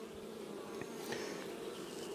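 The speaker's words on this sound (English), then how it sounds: "good to see frames covered with bees" Honeybees buzz over frames of a healthy hive during an inspection, a continuous, even drone close to the microphone, alone without voices.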